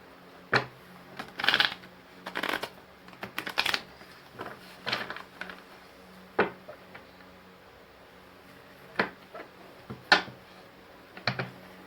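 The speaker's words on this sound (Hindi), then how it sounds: "यहाँ से मैं 4 कार्ड्स निकालूंगी ताकि देखें आपकी एनर्जीज कितनी मैच होती है" Oracle cards are shuffled and drawn from a deck, giving short, quiet, scattered bursts of papery riffling and taps with gaps between them, close up and without talk.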